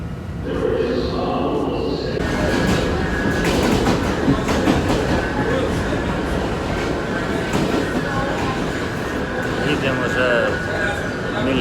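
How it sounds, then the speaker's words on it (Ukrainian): A New York subway train rumbles and clatters steadily along the tracks, loud and close, with a voice talking under the noise. "видно, що це одне із найстаріших метро"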